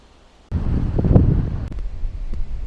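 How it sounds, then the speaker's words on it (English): Strong wind buffets an orchard on a fruit and Christmas tree farm, a steady loud rush and rumble across the microphone that swells in gusts after a quiet start. "Extremely windy day today."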